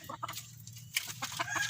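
Several gamefowl breeder hens cluck in short, scattered bursts close by, with a low steady hum underneath.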